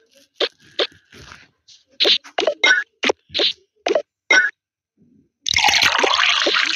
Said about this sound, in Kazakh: Маған шай құйып берші.